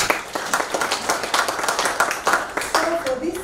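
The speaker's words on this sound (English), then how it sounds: "Let's clap for ourselves." A conference audience claps in a scattered, lively patter, with some voices mixed in beneath the applause.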